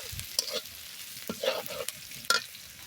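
Chicken and ginger paste frying over a clay stove, with a few distinct stirring scrapes and clacks of a spoon rising over a low, steady sizzle, close by and otherwise quiet.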